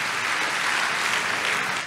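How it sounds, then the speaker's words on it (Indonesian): Church congregation applauding loudly and steadily throughout, a dense, even wash of clapping that holds for nearly two seconds before tapering slightly at the end. "Boleh berikan tepuk tangan yang paling meriah buat Tuhan."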